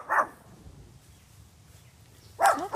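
A puppy gives two short barks with a quiet gap between them, close by and at moderate loudness, with no talking.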